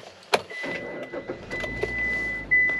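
A car is started. A sharp click or door thump comes first, then a steady mechanical whine with a low engine rumble underneath, growing louder near the end, close by and with no voices.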